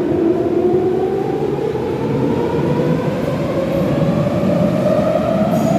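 An Athens metro train rumbles along at speed, a loud, steady roar with a rising whine from the motors, heard from inside the car with no talk.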